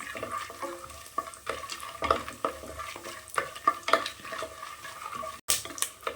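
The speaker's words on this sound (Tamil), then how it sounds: "முந்திரி ஒரு கைப்பிடி சேர்த்துக்கோங்க நிலக்கடல ஒரு கைப்பிடி சேர்த்துக்கோங்க பச்சை நிலக்கடல சேர்த்துக்கோங்க இது நல்லா வறுத்துக்கலாம்" Cashews and raw peanuts roasting in a pan while a spoon stirs them, giving rhythmic scraping and clinking over a light sizzle, close and fairly loud, with no talking.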